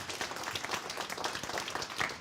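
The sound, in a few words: audience applause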